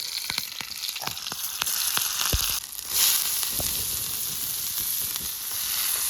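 Dried fish sizzles on a very hot griddle at a night campsite, a steady crackling fry with sharp pops and occasional scrapes, close and clear with no talk.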